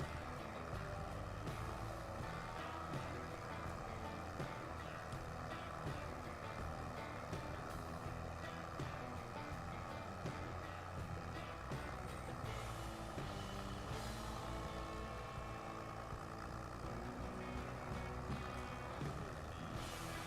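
A tractor engine in Farming Simulator 25 labours uphill as a steady, loud, unbroken drone that holds level for the whole stretch, with no talking.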